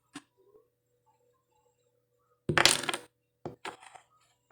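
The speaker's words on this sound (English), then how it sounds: "let's start by rolling this dice here for the first bunny" Dice clatter across a hard surface in a quick burst of rattling, followed by a couple of softer tumbling clicks. Otherwise nearly silent.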